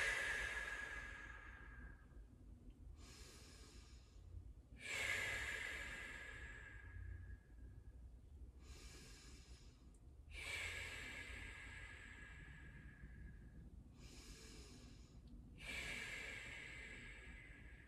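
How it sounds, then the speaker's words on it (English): Deep, slow breaths during a heart-opening meditation with hands over the heart, five or six long airy inhales and exhales in steady rhythm, close and quiet, with no talking. "Place your hands over your heart and take 5 deep breaths."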